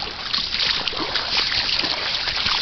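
Rubber boots slosh through floodwater over a washed-out road after Hurricane Dorian, a steady broadband churn of splashing and trickling water without clear individual steps.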